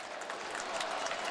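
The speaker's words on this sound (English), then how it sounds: "in front of a huge crowd and a noisy one already" A huge, noisy stadium crowd at a 2006 California vs. Tennessee college football game, a steady, distant roar of many voices with scattered cheering, heard without any close speech.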